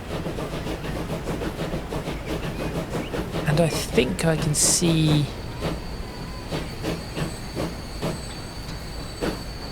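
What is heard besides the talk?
trains pulling into station in video game Transport Fever 2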